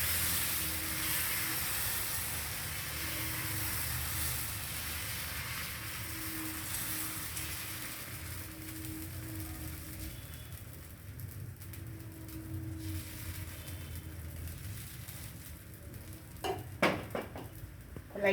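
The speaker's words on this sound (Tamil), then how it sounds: "கலக்கிட்டு ஒரு 2 கரண்டி மாவு ஊற்றிக்கோங்க. மெலிசாக தேய்ச்சி விட்டுருங்க." Millet dosa batter spread thin on a hot pan, giving a soft steady sizzle with faint stirring and scraping, then a few sharp clatters of the pan near the end.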